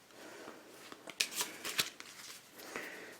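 Playing cards from a CMYK V2 deck riffled and handled for a magic color change, a few crisp snapping flicks and soft rustling up close, with no voice over them.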